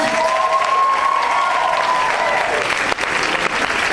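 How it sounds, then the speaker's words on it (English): Sustained audience applause at an event honoring two teachers, a steady dense wash of clapping filling the whole stretch with a faint voice over it. "Big round of applause for Claire and Brett."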